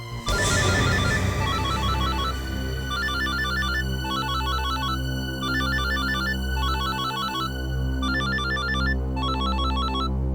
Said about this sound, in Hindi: उस किडनैपर का फोन आने वाला है